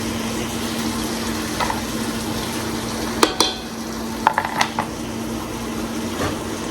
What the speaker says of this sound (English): We're going to let our onion cook until it's soft